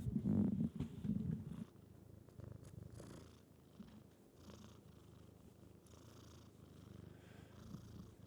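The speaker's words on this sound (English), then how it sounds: "I wonder if y'all can hear him purr." A small cat purrs close to the microphone. The low, rhythmic rumble is strongest at the start and then goes on faintly and steadily, with soft rustling around it.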